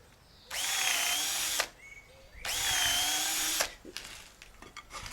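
A power drill boring a pilot hole into a wooden bar while building a lobster pot: two whining bursts of about a second each, separated by a short pause, then quiet handling noises.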